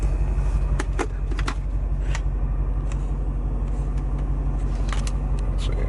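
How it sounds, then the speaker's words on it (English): C6 Corvette fitted with TSP longtubes and an X-pipe, a steady low exhaust drone heard from inside the cabin while cruising, with a few faint clicks and rattles over the rumble. "I noticed right away that the exhaust inside is a lot more aggressive"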